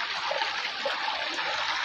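River water flowing through a village stream in the dry season, a steady broad hiss and rush of current, close and continuous with no talk.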